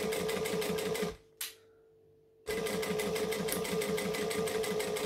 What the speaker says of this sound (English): We're stitching that hole closed as we stitch it down